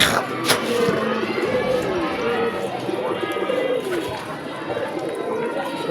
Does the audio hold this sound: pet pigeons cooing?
yes